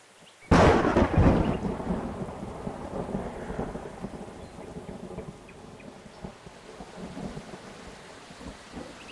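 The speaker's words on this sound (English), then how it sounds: "Damn rain." In the video game Farmer's Life, a sudden crack of thunder booms close, then rolls off into a long rumble over steady falling rain.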